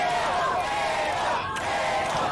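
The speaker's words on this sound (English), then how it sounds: "The crowd here, knowing what they want, cheering for the table" A dense arena crowd at a wrestling tables match roars and chants steadily, a continuous loud wash of cheering voices without pause.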